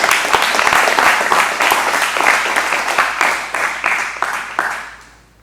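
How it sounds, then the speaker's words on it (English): An audience claps for a student founder at a pitch event, with dense, loud, continuous applause that keeps up for several seconds before tapering off at the end. "Y'all give him a round of applause."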